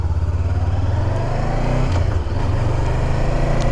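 A Honda CB500X 500 cc motorcycle revs hard and accelerates in second gear, a loud, close engine roar that climbs, dips briefly and then pulls on again.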